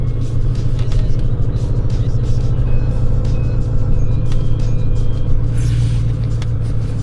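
A 1996 diesel truck engine with a new glow plug starts and settles into a loud, steady, close idle rumble, with a heavy low clatter and a slight rise in revs near the end.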